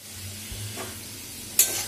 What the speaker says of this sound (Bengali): এবার এটা কিছুক্ষণ ঢাকা দিয়ে অল্প সিমে দিয়ে অল্প আঁচে এটা ভাজবো